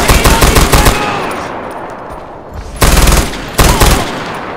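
Automatic gunfire rips out in loud rapid bursts in Far Cry 4: a long opening volley, a short gap with a rumbling tail, then two more sharp bursts close up.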